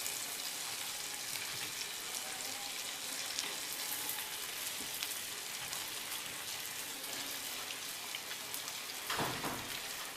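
Idli pieces cut into shapes frying in melted butter in a pan, giving a steady, fairly quiet sizzle and crackle throughout, with a brief louder disturbance near the end and no talking.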